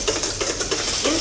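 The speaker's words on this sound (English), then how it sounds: "now he's putting about a tablespoon of butter into a very hot frying pan" Butter and figs sizzle in a very hot frying pan, with light scraping and clinking of a utensil against the pan in an irregular rhythm, close and fairly loud.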